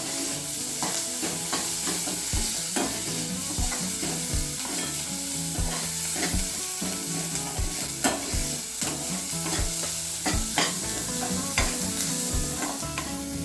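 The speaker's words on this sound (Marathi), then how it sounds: "मीठ टाकल्यानं कांदा लवकर भाजतो टाइम लागत नाही त्याला छानसा असा लाल कलर येईपर्यंत भाजून घ्यायचा" Chopped onion with salt fries in a pan until reddish, giving a loud, continuous sizzle broken by frequent scraping and stirring clicks throughout, with no talking.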